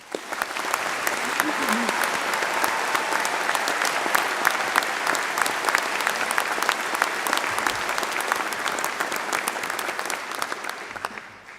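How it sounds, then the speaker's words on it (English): A warm round of audience applause for conservatoire musicians at a university graduation ceremony, dense, sustained clapping from a large crowd at even loudness for about eleven seconds before tapering off. "Please join me in giving them a warm round of applause."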